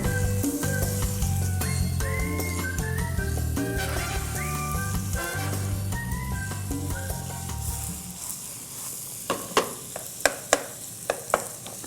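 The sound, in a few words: ingredients frying with onion in a pan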